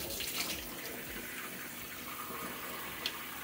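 Water runs steadily from a tap into a CamelBak hydration bladder in a continuous gushing stream, close and moderately loud, with no talking.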